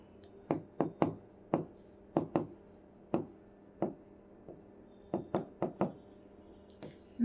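Chalk or marker strikes on a classroom board during a psychology lesson, a series of sharp, close taps and short strokes in uneven bursts, with quiet gaps between and no talking over them.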